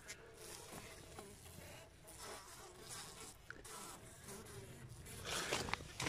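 Honeybees clustered in a hive during minus-ten-degree February cold, giving a soft continuous buzzing hum with faint crawling and rustling, low in level and close by, with no talk.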